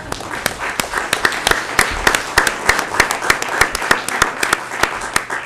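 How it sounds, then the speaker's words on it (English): An audience at a chamber of commerce candidate forum in Yucca Valley gives a round of applause, steady sharp claps from many hands at a moderate distance, continuing evenly throughout. "How about another round of applause?"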